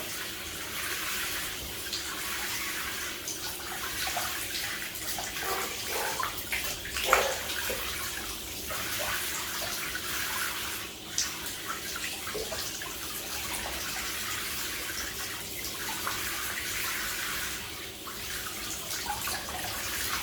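Shower water runs steadily while a snake is rinsed, a continuous broadband spray with small splashes and knocks scattered throughout, close and fairly loud without talk.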